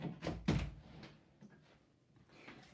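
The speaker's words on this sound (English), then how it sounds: "just got to open the door a minute" An indoor door opens at close range with a couple of soft thuds and a brief rattle, followed by quiet room tone and a faint knock near the end.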